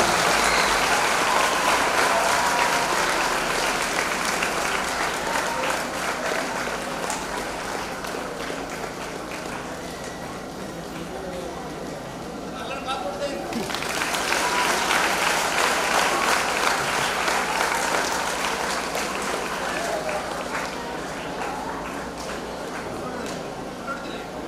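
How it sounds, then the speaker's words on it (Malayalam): Sustained applause fills a school hall as new students are welcomed, a dense crowd of clapping hands that dips briefly midway and then swells again, loud and continuous. "എല്ലാവരും നിറഞ്ഞ കൈയടികൾ അവർക്ക് നൽകേണ്ടതാണ്."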